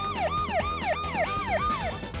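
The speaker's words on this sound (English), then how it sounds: "the siren that sounds in the movie is a modern electrical siren" A modern electronic ambulance siren from the animated film Up wails in fast, repeating rising-and-falling sweeps, loud and steady with no voices.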